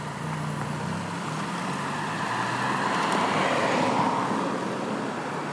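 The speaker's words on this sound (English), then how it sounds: "let's start off our drive here on the highway" A Vauxhall Grandland X Hybrid4 plug-in hybrid SUV cruises on a highway near an airport. Inside the cabin there is a steady, broadband road and wind roar that swells slightly midway, with no voices.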